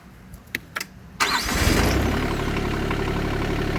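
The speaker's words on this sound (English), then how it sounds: "let's start the tractor" An RK24 tractor engine cranks with a few sharp clicks, catches and settles into a steady, loud diesel idle close by.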